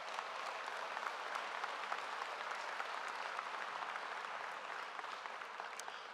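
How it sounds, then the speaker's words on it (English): A large audience at a high school graduation ceremony applauds in a steady, even wash of clapping that holds for several seconds at a distance. "Let's give them a nice round of applause for that."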